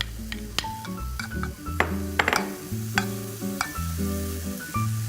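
Bacon and gimbap ham fry in a pan on reduced heat, a steady sizzle running under clinks and scrapes of utensils stirring and tossing the meat, with brief tonal chimes over it.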